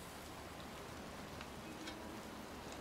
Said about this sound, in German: Es ist kalt, es regnet, ich bin draußen und völlig durchgeweicht.